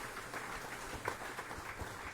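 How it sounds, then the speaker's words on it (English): Faint applause from a town hall audience at a Missouri Amendment 5 meeting, a soft, steady patter of many hands heard from a distance. "you're all tired of clapping"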